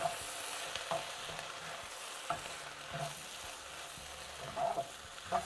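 Okra and onion sabzi sizzles steadily in a pan with a soft continuous frying hiss, broken by a few light scrapes and stirring knocks of a spoon against the bottom, close and fairly quiet.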